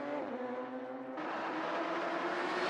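Radical SR3 race car at Road America, engine note loud and close with a steady high whine that jumps in pitch partway through as it brakes and shifts, continuous throughout.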